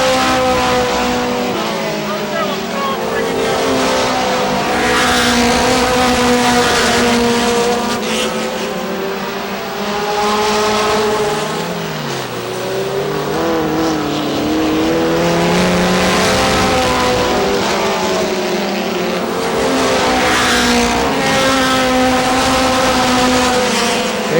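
Race cars lap Star Speedway in New Hampshire with loud, continuous engine roars that rise and fall as they pass, several cars overlapping, while a commentator talks throughout.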